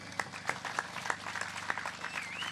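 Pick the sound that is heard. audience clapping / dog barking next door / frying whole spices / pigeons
audience clapping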